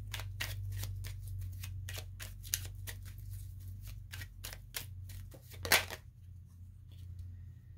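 Cards being shuffled for a card reading give a close run of brisk riffling flicks, regular and fairly quiet, with one louder snap near the end over a low background hum.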